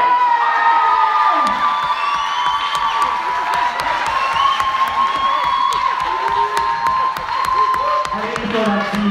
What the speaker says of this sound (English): It's a cheer.